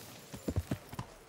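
A horse's hooves clop on the ground in Kingdom Come: Deliverance, a quick run of uneven thuds drawing near after being called, fairly loud with no talk.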